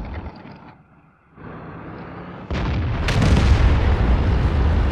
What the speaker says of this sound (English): I got hit by the Batchat artillery